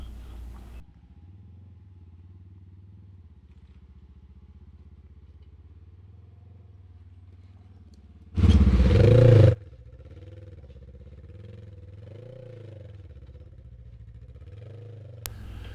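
A 2020 Polaris General XP 1000 UTV on 32-inch Sedona Rock-A-Billy tires climbs an uphill boulder field, its engine a low, steady drone broken midway by a single loud, harsh burst of roughly one second.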